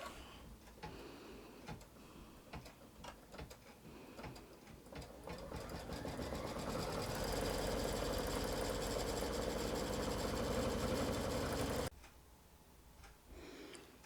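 Sewing machine stitching a quilt block in an embroidery hoop, a steady mechanical whir that builds from light ticking into a loud sustained run, then stops abruptly near the end, leaving quiet handling sounds.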